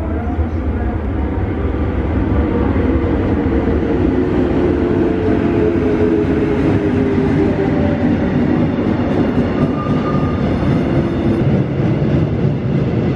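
A heavy train rumbles steadily and loudly nearby as it approaches a station platform, its rolling clatter filling the whole stretch without letting up.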